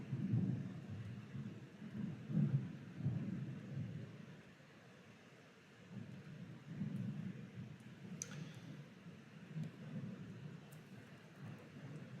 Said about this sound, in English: So it may thunder really loud here in a second.